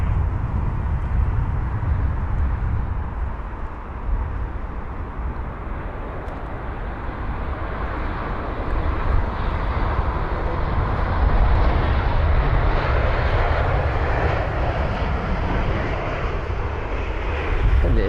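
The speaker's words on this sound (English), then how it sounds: "there's the pushback that I was on about for the Air Canada 787" At London Heathrow, an Air Canada Boeing 787-9 Dreamliner pushes back while a broad, steady engine roar holds throughout and swells slightly in the middle. Voices talk faintly beneath the rumble.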